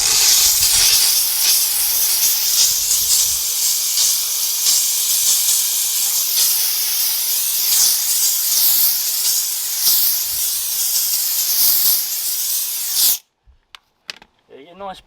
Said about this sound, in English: Let's just see what the pressure from the steam does of its own.